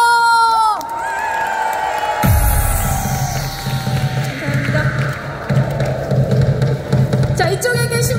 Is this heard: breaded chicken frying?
no